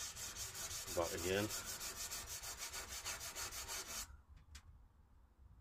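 A chisel is rubbed freehand back and forth across a sharpening stone, giving steady, close scraping strokes in an even rhythm that stop abruptly, and someone speaks briefly over the strokes.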